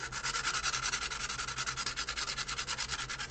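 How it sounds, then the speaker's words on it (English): Sandpaper rubs in quick, even back-and-forth strokes across the seam of a resin 3D printed prop, a close, steady rasping with no talk. "You want to sand across the seam"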